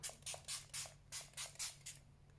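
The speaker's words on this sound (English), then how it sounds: "I'm just going to spray that on now as well" Short hissing bursts of self-tanning mist sprayed onto a face, about eight in a steady rhythm, close by over a low background hum.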